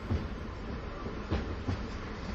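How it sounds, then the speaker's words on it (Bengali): An express train arrives as a sound effect: a low rumbling rail roar with a few rhythmic heavy clacks of wheels over track joints, close and continuous. "কিছু সময় পরেই একটা এক্সপ্রেস ট্রেন এসে থামে।"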